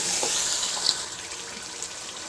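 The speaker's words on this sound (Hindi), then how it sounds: "अब हम इसमें पानी डालेंगे" Water pours steadily into a pot of rice for chana pulao, a continuous rushing splash close by, with a few small clinks along the way.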